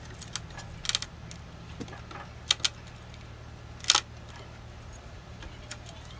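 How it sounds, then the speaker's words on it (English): Someone fumbles with a wooden pallet and a screwdriver, prying at the boards, giving a few sparse clicks and metallic clinks over a low steady hum, with one sharper scrape near the end. "take a look at me fumble around with this pallet trying to disassemble it"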